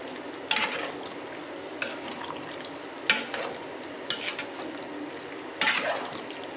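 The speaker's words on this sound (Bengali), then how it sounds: "মাংস মিক্স করে দিব" Meat being stirred with ghee and pilaf rice in a cooking pot, soft scraping and stirring with a faint sizzle, punctuated by several sharp clinks of a utensil against the pot.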